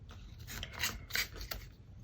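Paper being torn up close in a quiet craft room: a short, faint, rasping rip lasting about two seconds, uneven and scratchy, with no voices.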